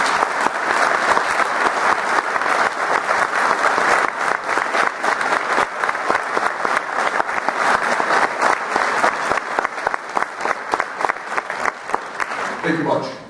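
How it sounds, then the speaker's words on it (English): Audience applauding new nurses at a nursing recognition ceremony: sustained, dense clapping from a large crowd, loud and close, lasting over ten seconds before tapering off at the end. "Please join me in a round of applause for our newest and brightest nurses."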